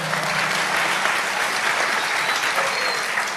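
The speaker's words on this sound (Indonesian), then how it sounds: "Tepuk tangan dong." Large audience applause at a religious gathering, a dense, even roar of clapping from many hands that holds at a steady loud level for the whole stretch without talk.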